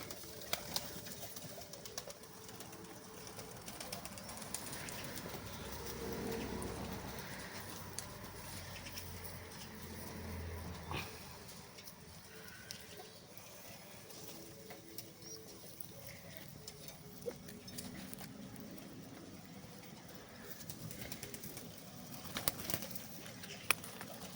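Pigeons feeding, with steady cooing and soft pecking and shuffling over a constant background murmur, plus a few sharp clicks near the end.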